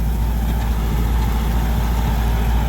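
A new Kubota L5018 tractor pulls a six-disc plough slowly and deep through soil, its engine a steady, close, loud diesel drone with a low rumbling throb throughout.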